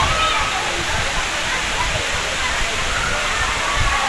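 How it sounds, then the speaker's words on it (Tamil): Agaya Gangai waterfall in the Kolli Hills roars as a steady, dense wash of falling water, loud and close, with a constant broadband rush and no breaks. "இதுதாங்க ஆகாய கங்கை நீர்வீழ்ச்சி"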